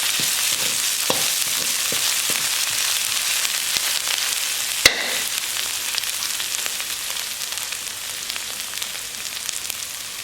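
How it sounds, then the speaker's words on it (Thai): Garlic and pounded chili stir-fry in a hot pan for spicy catfish with fresh chili, making a loud, continuous sizzle with scraping stirs and one sharp clank partway through. "ก็ผัดจนกระเทียมครับ เหลืองและหอมครับ"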